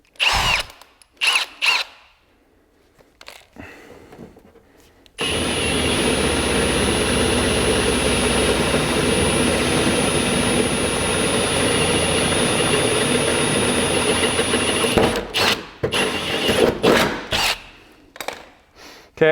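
Power tool cutting through the metal body panel of a Toyota MR2 to fit fender flares, a loud steady whine running unbroken for about ten seconds between brief bursts of handling noise.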